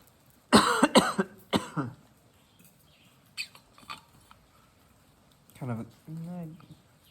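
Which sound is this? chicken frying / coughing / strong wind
coughing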